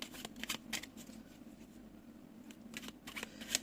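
Tarot cards handled on a table, a quick run of soft flicks and slaps as one card is laid down over another, close and crisp with no voices.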